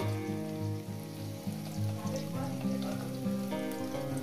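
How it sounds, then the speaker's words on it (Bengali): Potatoes frying in a pan for a posto dish, a soft continuous sizzle beneath a steady tonal hum that shifts pitch midway, no one speaking. "শুধু আলুটাকে সুন্দর করে আমি 4-5 মিনিট ধরে ভেজে নেব।"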